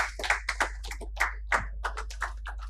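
Scattered hand claps from a small audience at a nutraceuticals summit, a loose irregular patter of individual claps rather than full applause, close and moderately loud over a low hum.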